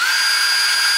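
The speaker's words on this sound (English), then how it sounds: "you want to go through and drill and tap all your holes" A power drill bores holes into aluminium for a hand-built boat, a steady high whine with sustained tonal ringing, loud and close, running continuously without voices.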